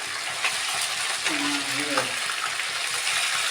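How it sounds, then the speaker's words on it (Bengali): Potatoes fry in a pan with a loud, steady sizzle and repeated scraping stirs close by, while a brief rising tonal whine cuts in partway through. "এখনো হয়নি আলু ভাজা"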